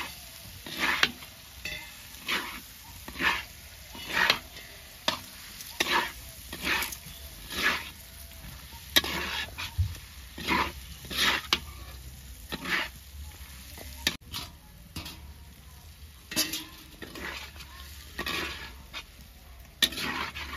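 Chili paste sautéing in oil while a spatula stirs it for a chicken-skin curry, steady low sizzling punctuated by regular scraping strokes against the pan, roughly one every second or so.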